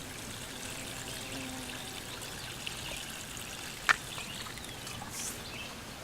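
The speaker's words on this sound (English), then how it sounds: "I'm going to water it in even more." Water poured from a container onto the soil around a newly planted blackberry bush outdoors, a soft continuous trickle and splash, faint and steady, with a single brief click partway through.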